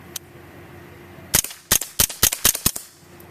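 A Huntertown Arms Kestrel 7.62x39 multi-caliber AK fires subsonic .22 rounds outdoors. One early crack is followed by a quick string of about seven sharp, fairly quiet pops.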